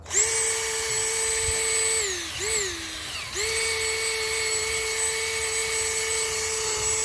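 Power sander whining steadily while scuffing an old Johnson outboard motor, a close, loud high-pitched drone that dips in pitch briefly as it bogs under load, then resumes at full speed.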